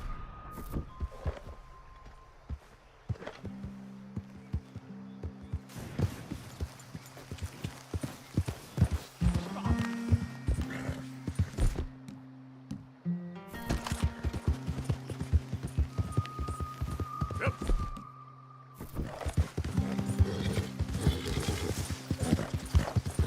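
A horse gallops in Red Dead Redemption 2 with clear, rapid clip-clop hoofbeats over game music, a neigh breaking in, and brief pauses between runs.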